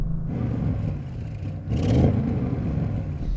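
An Audi RS6 engine rumbles steadily, then revs up briefly in a louder surge against its soft limiter before settling back to a throaty idle.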